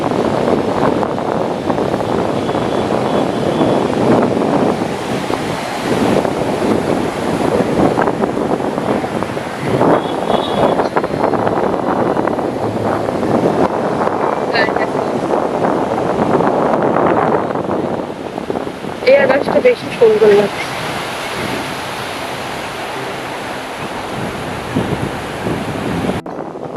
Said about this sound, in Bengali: ভোরবেলার সমুদ্র একদম শান্ত নিরবিলি আর সমুদ্রের খালি কলরব